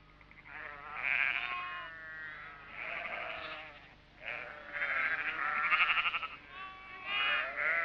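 Sheep bleat repeatedly during a high-country muster, several overlapping wavering calls at moderate distance, steady and continuous with a faint background hum.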